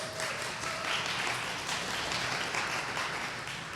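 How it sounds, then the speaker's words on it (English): An audience at a women's tech panel event gives a round of applause, a steady moderately distant clapping from a crowd that continues throughout. "please join me in a round of applause for our incredible partners"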